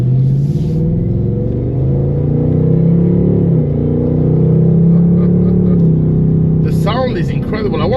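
A 2024 Ford Mustang GT Premium cruises along with a steady, low engine drone that swells and eases slightly, loud and close from inside the cabin, before a voice speaks near the end.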